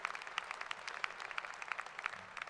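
Brief, moderately distant audience applause at a commencement ceremony, a steady patter of many hands clapping without voices.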